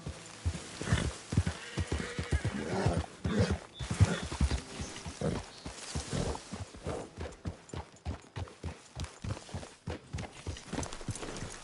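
A horse in a PS4 video game neighs and trots, with a rhythmic run of hoof clip-clops carrying on steadily under faint game ambience.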